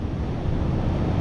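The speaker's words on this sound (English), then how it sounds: "we have wind" Steady seaside wind buffets the microphone at a shoreline fishing spot at Port Edward, a continuous rough roar with surf blended underneath and no voices.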